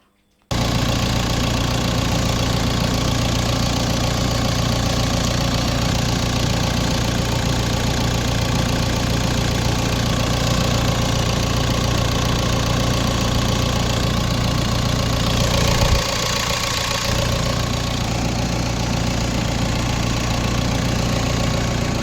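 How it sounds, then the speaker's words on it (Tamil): A Mahindra Scorpio SUV engine idles steadily, close up and loud, a constant low rumble with a faint ticking texture that holds evenly throughout after an abrupt start. "இன்ஜினோட நாய்ஸாக லைவாக கேளுங்கள்"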